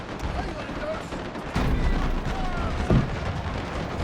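British troops fire rifle volleys at close Zulu attackers from a fort in a Total War battle of the Anglo-Zulu War. Two heavy crackling bursts rise out of constant battle din, with a voice faintly beneath.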